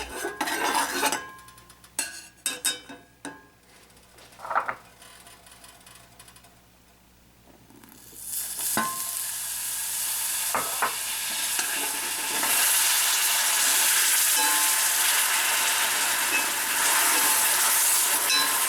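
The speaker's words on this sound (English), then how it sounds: "We simply stir brown sugar in a hot saucepan until the sugar is melted" Brown sugar being stirred in a hot saucepan, spoon scraping and clinking against the pan in short strokes, then a loud steady sizzling hiss as the sugar melts and steams.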